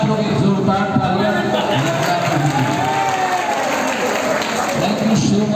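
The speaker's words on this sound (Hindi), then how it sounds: "कृपया आप लोग एक जोरदार तालियां।" An audience at a Bhojpuri film event claps and cheers in a dense, sustained wash of noise, with voices mixed into the crowd sound.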